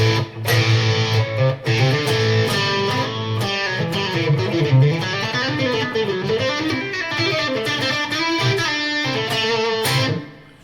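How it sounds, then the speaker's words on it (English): An electric guitar played through a Tonex One pedal with reverb engaged plays a continuous melodic line with a washed, echoing tail on the notes, loud and sustained before fading at the end. "And now we have our reverb."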